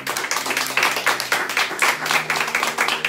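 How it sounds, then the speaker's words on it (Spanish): A church congregation claps in praise, the uneven, rhythmic claps loud and close with a faint tone running underneath. "Dale un aplauso fuerte al Señor."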